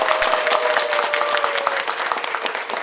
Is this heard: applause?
yes